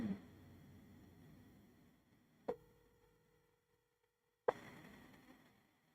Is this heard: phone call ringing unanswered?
yes